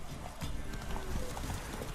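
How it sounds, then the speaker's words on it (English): Roach, the horse from the video game The Witcher 3, trots with steady rhythmic clip-clop hoofbeats, close and moderately loud, with faint tack jingles and no talking over it. "Cadê meu cavalito? Aqui, pangaré."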